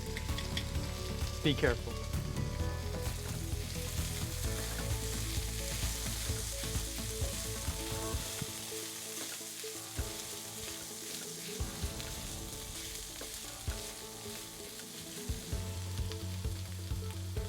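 Chorizo and potato hash with diced jalapenos sizzling loudly and steadily in a pan, stirred with repeated scraping and clatter, close up, with a brief spoken remark partway through.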